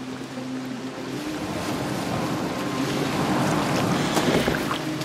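A boat moving over open water in Assassin's Creed Valhalla, with a steady wash of waves and wind building gradually, no voices.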